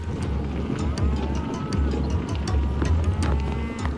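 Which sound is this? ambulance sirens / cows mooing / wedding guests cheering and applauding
cows mooing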